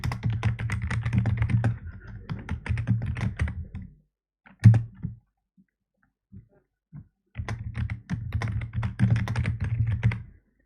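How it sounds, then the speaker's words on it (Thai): Rapid typing on a computer keyboard while editing an article, dense bursts of close key clicks, a pause of a few scattered taps in the middle, then steady typing resuming. "เราก็มานั่งพิมพ์นะ"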